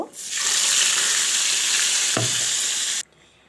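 A paste of onion, tomato, garlic, ginger and dry chilli hits hot oil with a loud, close hiss that spreads across the whole pan. The sizzle holds for nearly three seconds, then cuts off abruptly, with a brief knock partway through.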